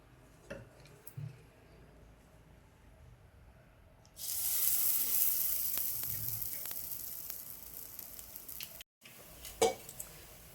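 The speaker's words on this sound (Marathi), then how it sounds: "थोडंसं तेल घालून घेऊया आप्पे पात्रात आता आपलं मिश्रण घालून घेऊया" Mung dal and green pea batter goes into an oiled appe pan. After a few quiet clicks and taps, a bright sizzle suddenly starts and stays steady. It breaks off briefly near the end, then a clatter of utensils follows.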